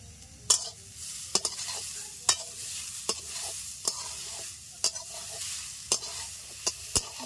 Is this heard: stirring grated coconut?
yes